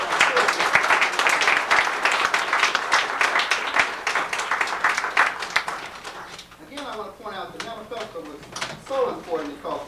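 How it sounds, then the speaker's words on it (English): An audience applauds at James Boggs's 71st birthday celebration, with dense clapping for about six seconds before it thins out and a speaking voice takes over. "give all of ourselves an applause, and also give the Boggs another applause"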